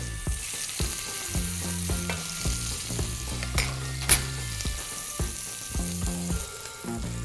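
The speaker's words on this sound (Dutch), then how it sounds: "Vlees een beetje aanbakken in de pan, zodat het een lekker korstje krijgt langs alle kanten" Lamb fillet searing in a hot frying pan for a crust, steady close crackling sizzle with scattered pops and light scraping from stirring, no voices.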